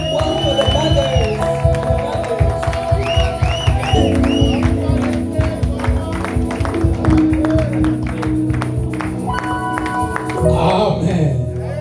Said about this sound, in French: Clap well for the mothers.